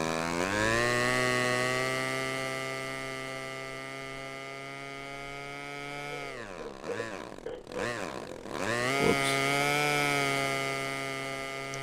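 Small RC model airplane engine in flight, a loud sustained buzzing whine that holds steady, then dips and wavers as the plane turns or changes throttle around the middle before climbing back to a strong steady drone.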